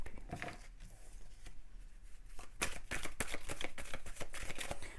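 Tarot cards handled and drawn from a deck, soft shuffles and rustles followed by a run of crisp card snaps and flicks, close and fairly quiet.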